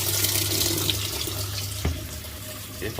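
Strong, steady rush of water pours into a washing machine through its repaired inlet valve with a glued 27mm diaphragm, heard close and continuous, with a brief knock partway through.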